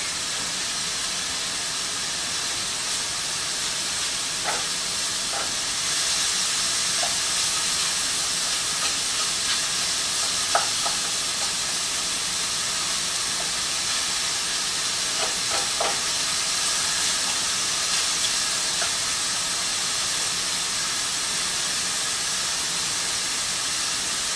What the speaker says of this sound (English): I'm supposed to brown my mushrooms for 5 minutes